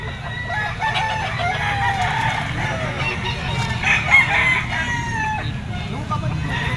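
Green-legged Gilmore stag roosters crowing and clucking at a market pet stall among other fowl, several overlapping calls fairly near over a busy background hum, with someone talking.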